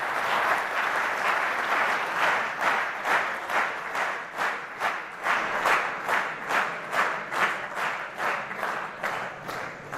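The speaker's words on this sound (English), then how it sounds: "very big round of applause for our beloved next speakers" Audience at a school silver jubilee reunion applauding the next speakers, with sustained clapping that swells into rhythmic, in-unison pulses.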